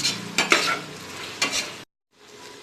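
Mint and chilli powder frying in hot oil for soya chunk biryani, a steady close sizzle broken by a few louder stirring scrapes, then a brief silence before the quieter sizzle returns.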